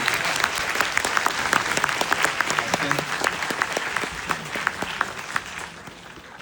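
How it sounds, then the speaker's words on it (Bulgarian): Enthusiastic applause at a live culinary event in Bulgaria, dense clapping filling the hall at steady loudness for several seconds before easing off slightly at the end. "Аз искам да чуя първо бурни аплодисменти за това,"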